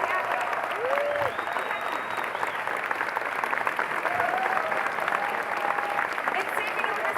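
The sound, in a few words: applause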